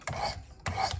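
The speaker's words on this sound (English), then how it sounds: "I prefer to bring this diamond stone away from the blade rather than into it when I do my strokes" A diamond stone scrapes across a knife blade on a Work Sharp Precision Adjust sharpener, two crisp close rasping strokes in quick succession.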